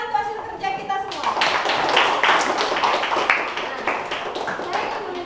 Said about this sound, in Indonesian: tepuk tangan untuk hasil kerja kita semua